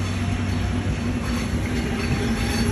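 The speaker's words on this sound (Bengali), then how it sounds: "একটা ট্রেন চলে যাচ্ছে শাই করে" A train rushes past at close range, a loud steady rumble of rolling wagons with a low drone and broad rattling noise that fills the whole moment without letup.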